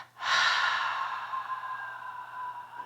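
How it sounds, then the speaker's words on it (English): During a slow yoga breathing practice, a single close, breathy exhale through the mouth rushes out strongly, then trails off softly for a couple of seconds in an otherwise quiet room. "double exhale out"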